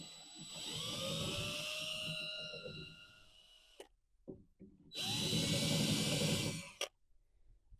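A power drill bores through the plastic battery box of a CompoCloset S1 dry flush sealing toilet, whining loudly in two long bursts with a brief quiet gap between them.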